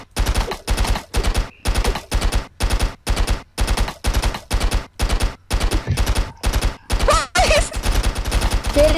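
AK rifle fire in the Stick Arena video game: a loud, rapid series of about a dozen evenly spaced synthetic gunshots, with brief game effects near the end.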